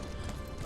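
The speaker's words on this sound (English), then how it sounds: "I'm just running around back and forth on my horse." A horse's hooves clip-clop as it runs back and forth in the video game Elder Scrolls Online, a short, steady burst of footfalls under a dense game soundscape.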